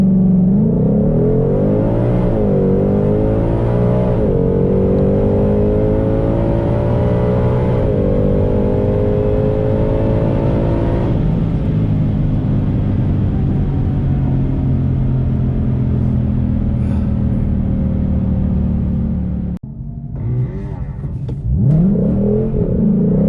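A 2022 Ford Shelby GT500 tears down the drag strip at Lebanon Valley Dragway, its loud engine roar rising through repeated upshifts before easing off near the end.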